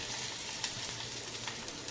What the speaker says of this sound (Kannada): ಒಗ್ಗರಣೆ ರೆಡಿ ಆಗಿ ಗಾಯ್ಸ್